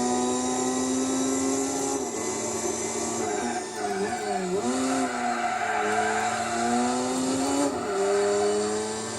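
Mazda NR-A Roadster racing in Gran Turismo 4: a loud, continuous engine drone rises and dips in pitch through corners, with tires squealing during the turns, and no voices.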